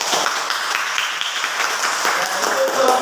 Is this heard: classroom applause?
yes